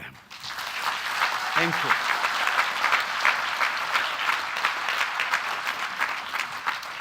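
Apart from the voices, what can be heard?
applause for graduating degree awardees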